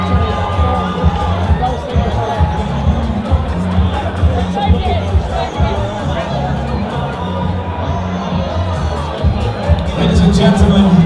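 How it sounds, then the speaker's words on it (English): A boxing crowd at the Magna in Sheffield cheers and chatters in a loud, continuous roar of voices, with a commentator talking over the ringside din. "There's a big cheer of the crowd"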